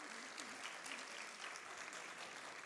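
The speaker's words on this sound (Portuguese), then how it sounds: "eu peço aplausos para o adjunto Afonso" An audience at a special session in the Teatro Amazonas applauds, a steady, fairly faint wash of clapping that continues evenly, with a faint voice murmuring underneath.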